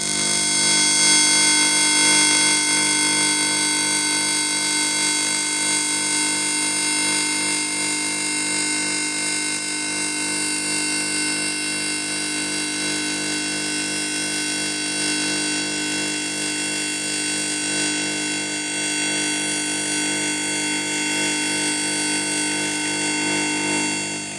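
Pulsed welding at about 165 amps and 300 pulses per second on a Panhead motorcycle's aluminium exhaust gives a continuous, loud, even buzzing hum that holds steady with no pauses.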